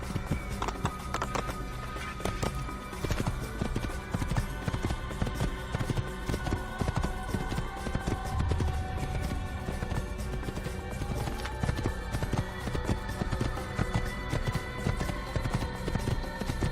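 A horse gallops steadily in Assassin's Creed, its rapid clip-clop hoofbeats continuous and close throughout, with faint background game ambience.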